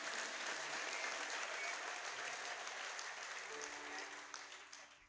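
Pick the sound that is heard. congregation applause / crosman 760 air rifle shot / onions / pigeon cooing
congregation applause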